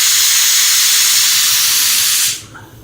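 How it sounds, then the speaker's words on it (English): An aerosol spray can sprays onto a corner in one loud, close, continuous hiss that cuts off abruptly near the end, leaving a quiet room. "I'm going to spray a little on here"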